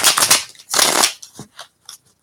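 Crystal Visions tarot cards being shuffled by hand in a few close, crisp riffling bursts, the longest in the middle, trailing off into softer taps and pauses.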